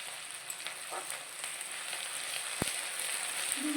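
Chilli chicken frying on a high flame while being stirred gives a faint, steady sizzling hiss, with a single sharp scrape partway through.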